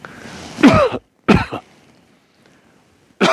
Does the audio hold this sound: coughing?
yes